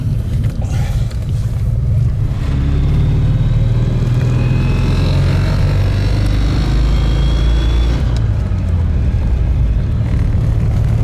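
A vintage Panhard PL17 rolls slowly along, its engine a loud, low, steady drone heard from inside the cabin, with a faint rising whine partway through and brief voices.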